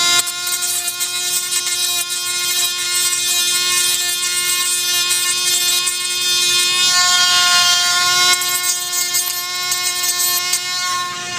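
A Dremel-type rotary tool rounds a plastic Dayan Zhanchi puzzle cube piece, a loud, steady high-pitched whine with stacked tonal overtones holding for about eleven seconds with slight wavering in pitch and pressure.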